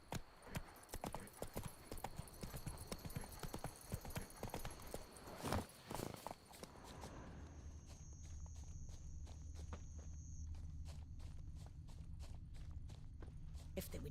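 Roach the horse's hooves clip-clop in The Witcher 3, quick sharp steps that slow to a steady even walk over a low ambient hum, with no talking.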